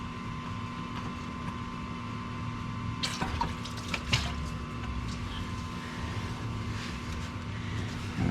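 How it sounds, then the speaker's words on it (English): Coolant gushes from a disconnected radiator hose on a Ford F150 during thermostat replacement, a steady rushing wash of liquid with a low hum beneath and a few sharper splashes midway. "I'm just going to pull this hose off"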